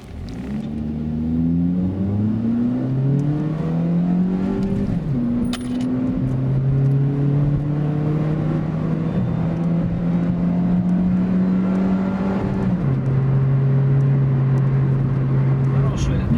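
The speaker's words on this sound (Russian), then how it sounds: "Все, и мы едем на газе." A Hyundai i10 1.1 engine running on LPG hums steadily and rises in pitch as it accelerates through automatic gear changes, loud and close inside the cabin.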